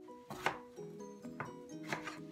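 A knife cuts fruit on a board while preparing Eton mess with meringue and cream: three or four soft, close chops with gentle knocks between them, quiet and unhurried, with no talking.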